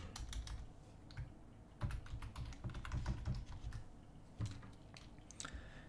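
Computer keyboard typing during digital painting work, a quiet, close run of irregular key clicks and taps continuing throughout with no voices.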